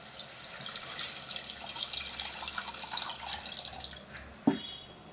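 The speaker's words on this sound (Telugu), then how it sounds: "కొద్దిగా రవ్వ పులుసు పోసుకుందండి" Thin tamarind broth is poured into a pot of onion fish curry with green chillies, a continuous close liquid splashing that ends in a brief knock.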